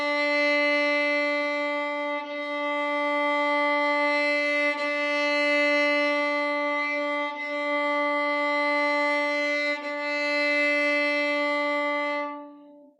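A bowed string instrument plays long sustained notes at the frog without the bow weight being equalized, giving a loud, rich drone with small bumps at the bow changes.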